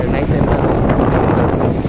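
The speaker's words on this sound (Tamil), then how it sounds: "காற்று அந்த அலை சத்தம்" Sea waves wash in with a steady rush of wind at night on Velankanni beach, a dense, continuous roar close to the microphone, with wind buffeting throughout.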